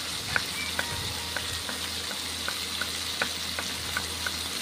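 Tomatoes and spinach frying in mustard oil in a wok, a continuous sizzle punctuated by regular light clicks of stirring, moderately close, no talking.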